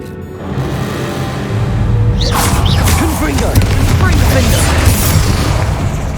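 The Bombarda blasting spell in Hogwarts Legacy goes off in a cave as a loud booming explosion after about two seconds, then a long rumbling, crackling tail. Dialogue runs over part of it.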